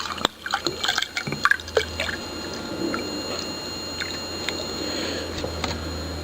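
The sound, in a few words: pouring Dit Da Jow liniment liquid into a container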